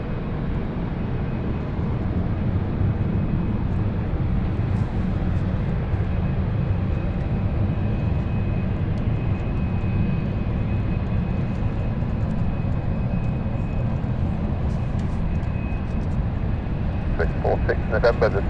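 A passenger aircraft takes off from runway 27 at London City Airport, bound for Dublin, its engines a steady, broad roar that holds evenly throughout.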